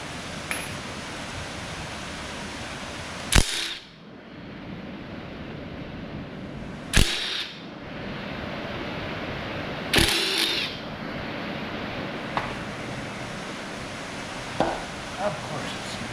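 Hammer blows knocking a stuck pulley off the engine of a 1977 Pontiac Trans Am, three sharp metallic strikes spaced a few seconds apart over a steady background hum, with a couple of fainter taps afterward.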